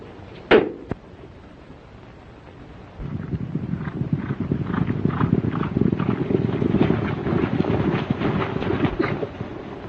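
Horse hooves clip-clopping at a steady pace on a ranch in a 1934 Western, a sharp knock near the start followed by continuous rhythmic hoofbeats of moderate loudness.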